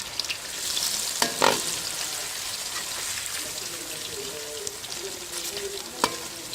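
Cut potatoes for homemade crispy French fries fry in hot oil over high heat, giving a steady close sizzle and crackle, with a few clinks of utensils against the pan.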